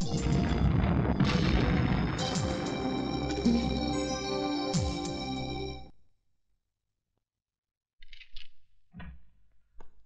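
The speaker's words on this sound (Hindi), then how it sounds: "यकीन नहीं आता तो अपने गोडाउन के धमाकों की आवाज को सुन।" Dense booming blasts and crashing debris from explosions tearing through a warehouse in a Hindi action movie scene, loud and continuous for about six seconds, then cutting to silence followed by a few scattered faint knocks.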